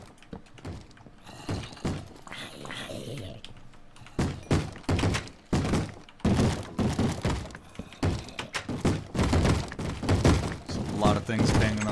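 Hostile mobs bang on wooden doors in the Minecraft Sky Factory modpack: a rapid, irregular run of hard thuds and knocks, fairly close, with a voice talking over the clatter.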